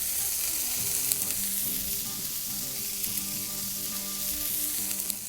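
Burger patties sizzle on a hot griddle in a dense, steady hiss of frying that holds constant and loud throughout, with a faint background hum and no talking.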